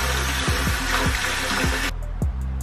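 Hot tap water runs in a steady hiss while a hair mask is rinsed out, broken by a few short knocks, before the flow stops abruptly and leaves faint drips.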